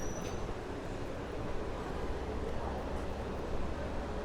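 A subway train rumbles through an open-air station on 8th Avenue in Sunset Park, Brooklyn, a continuous low rolling drone with faint wheel squeal, heard at moderate distance under street ambience.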